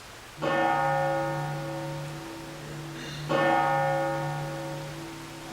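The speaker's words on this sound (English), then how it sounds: "The bell invites me. Hear it not, Duncan, for it is a knell" A deep church-style bell tolls in a stage production of Macbeth, two slow resonant strikes each ringing out and decaying, with a single spoken word over it.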